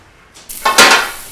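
A metal baking tray of freshly baked treats is pulled from an oven, giving a short clatter and scrape of pan on oven rack, close and fairly loud, with no talk.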